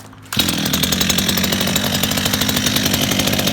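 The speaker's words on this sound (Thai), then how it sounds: "ลองมาสตาร์ทฟังเสียงเคร ื่องกันดูก่อนเนาะ" A STIHL MS230 chainsaw (older 023 generation) is pull-started and its two-stroke engine catches immediately, then idles loud and steady with a fast rhythmic buzz close by, no voices.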